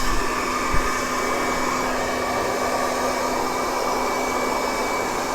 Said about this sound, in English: the next step is the hair dryer